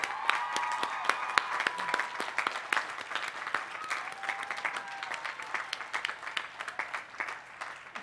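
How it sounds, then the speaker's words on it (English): Audience applause for an award recipient at a college commencement ceremony, scattered distinct claps forming a moderate, fairly even round that tapers slightly toward the end. "Let's give him an applause."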